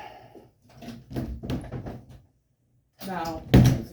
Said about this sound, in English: First, I'm going to open this door